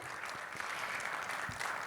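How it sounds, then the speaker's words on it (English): Applause from an audience at a health tech panel discussion, clapping for the panelists; a fairly faint, steady wash of clapping runs throughout with a few sharper claps standing out. "A huge round of applause, ladies and gentlemen."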